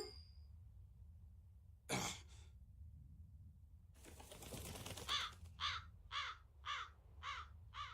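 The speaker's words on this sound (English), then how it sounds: "That crow just flew off with the coin." A crow in the Tales of Berseria video game caws in a series of six or so evenly spaced, fairly loud calls, following a single sharp caw and a brief rustling burst as it flies off with a coin.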